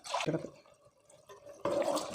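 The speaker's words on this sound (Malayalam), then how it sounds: "കുറച്ചും കൂടി വെള്ളം കൂടി ചേർത്തിട്ട് നമുക്ക് ഒഴിച്ചു കൊടുത്തേക്കാം" Water is poured into a pot of cashew nut curry in two short, close sloshing splashes separated by a quiet gap.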